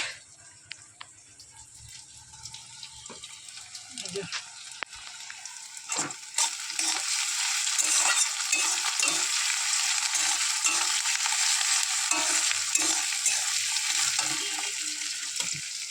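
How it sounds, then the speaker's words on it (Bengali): Onions fry in a pan with a growing, steady sizzle, joined by repeated scraping knocks of a spatula as they are stirred, close and with no voices. "এখন পেঁয়াজ ভাজছি"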